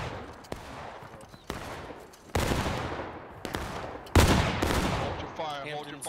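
Musket and rifle gunfire in the Civil War video game War of Rights, several sharp reports at irregular intervals, some near and loud with decaying echoes, others more distant, ending in a garbled burst of radio-like noise.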